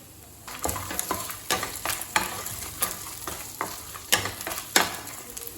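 Dried red chillies fry with a little onion in an oil pan for tomato coriander chutney, giving steady close sizzling with repeated scrapes and stirring clatters of a spoon against the pan.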